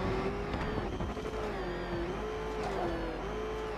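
A car engine in the video game Batman: Arkham Knight, a steady droning hum with a wavering tone that rises and dips slightly, continuous and fairly close.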